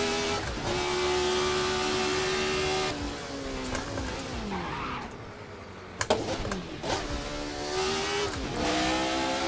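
Inside the Assetto Corsa racing game, a 1970 Formula RSS race car's V8 engine revs hard and steadily through gear changes, its pitch climbing and dropping with each shift, loud and continuous, with a brief dip and a sharp click partway through.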